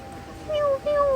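A cat meows twice from a shop's advertising display, two short, clear calls in a row heard close and fairly loud over faint background sound.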